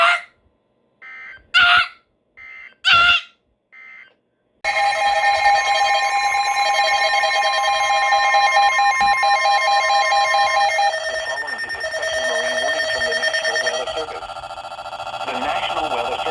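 NOAA Weather Radio Emergency Alert System header bursts, three short screeching data tones and a fainter fourth, then a long steady dual-tone alert with a synthesized voice starting underneath, loud and clear.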